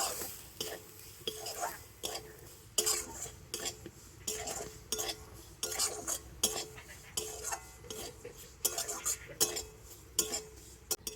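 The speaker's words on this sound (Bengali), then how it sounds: "আর এই সুজির সাথে নারকেল গুঁড়োটা একটু ভেজে নেব।" Semolina and coconut powder dry-frying in a pan, stirred with a utensil that scrapes and clinks in steady repeated strokes, close and moderately loud, with a faint whisper-like voice underneath.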